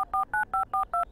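Telephone keypad dialing in the video game Miazma, six crisp evenly spaced dual-tone beeps in quick succession, clear and close.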